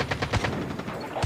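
JAK-12 shotgun fire in Call of Duty Mobile comes as a quick string of sharp, fairly soft shots in a steady rhythm, lasting about a second.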